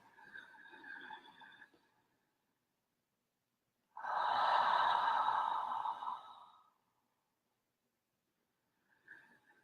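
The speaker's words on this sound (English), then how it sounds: "Breathing in the belly, up through the heart, exhaling." Slow, deep breaths during a guided breathwork session: a soft inhale, a long, strong exhale lasting a few seconds after a pause, and a faint start of another breath, close to the microphone in a quiet room.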